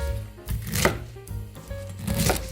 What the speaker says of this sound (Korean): 먹기 좋은 크기로 잘라 보겠습니다